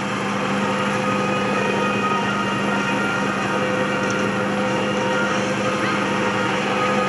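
A Coast Guard MH-65 Dolphin helicopter with a ducted fan tail rotor, heard as a steady, loud, continuous engine and rotor drone with a high whine, holding even throughout at an airshow search-and-rescue demonstration.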